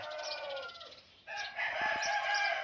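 Chickens cluck and call close by on a farm, with a short lull midway before the calls return.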